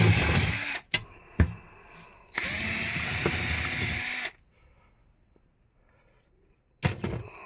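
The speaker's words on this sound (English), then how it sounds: "we have to go ahead and drill through this." A power drill bores through a fire safe during installation: a loud whining burst, sharp clunks, then a longer steady grinding run before it stops, quiet follows, and a final short clatter. No one speaks.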